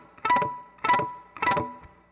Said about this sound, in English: Try to press down on the strings just barely so it sounds like this.